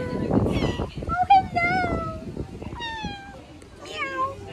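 A cat gives several drawn-out, rising and falling meows close by while a person talks at the start and a voice mixes in among the cries.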